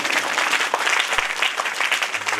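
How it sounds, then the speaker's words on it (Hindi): A crowd at a religious kirtan gathering near a Shiv temple claps loudly and continuously, a thick, close wash of hands with a few sharper slaps standing out. "ताली बजाओ"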